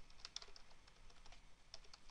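Quiet clicking of a computer keyboard as a command is typed on Windows 8.1, a run of soft, irregular keystrokes with a short pause in the middle, no talking.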